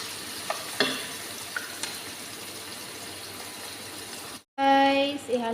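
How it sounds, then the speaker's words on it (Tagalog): Onion, garlic and chicken sauté in a pan for adobong kangkong, with a steady soft sizzle and occasional stirring clicks, followed by a brief louder burst of water near the end. "Naggisa lang ako ng sibuyas at bawang para sa gagawin nating adobong kangkong."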